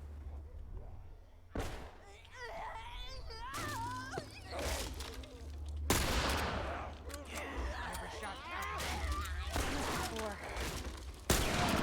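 Gunfire in The Last of Us video game, several sharp loud bursts and rapid volleys cutting through a tense ambience, with players talking between the shots.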